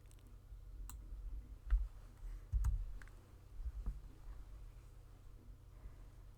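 Soft computer mouse clicks, a few separate taps with quiet pauses between them, recorded up close during a click-and-drag of an image corner in Photopea, with no talking.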